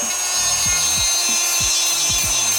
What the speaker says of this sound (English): I'm gonna use this Dremel. It has like a little sanding thing on it